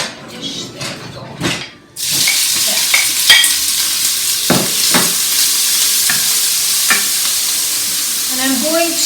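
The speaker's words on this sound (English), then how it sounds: "And then I'm going to put my onions in it first." Onions dropped into a pan over medium heat burst into a loud sizzle that holds steady, with a few utensil scrapes and clatters before and during the frying, close up.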